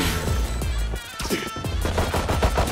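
Valorant gunfire: rapid, loud bursts of automatic shots close up, a short pause, then more quick shots, punchy and dense.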